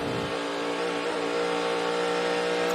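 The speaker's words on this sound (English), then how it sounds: "There you could hear the engine rev up when it hit the bump again there." A NASCAR Cup Series race car engine revving hard as the car hits a bump, a loud continuous mid-pitched engine roar that holds steady throughout.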